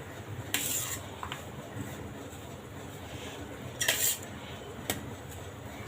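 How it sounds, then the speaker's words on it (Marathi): Jaggery stirred into hot rice in a metal pot for narali bhat, with a few scraping and clinking spoon strokes against the pot over a low kitchen background, close and intermittent. "आता 1 वाटी गूळ आहे ना, आपण याच्यात मिक्स करून घेऊया."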